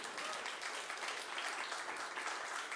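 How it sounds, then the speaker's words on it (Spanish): A congregation applauds during a Spanish-language church sermon. The clapping is dense and continuous, fairly distant and soft, and holds at an even level throughout. "dale un aplauso."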